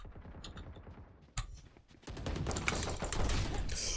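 Rapid video game gunfire, dense bursts of automatic shots that build into a loud, sustained fusillade after a brief lull, close and harsh with no talk over it.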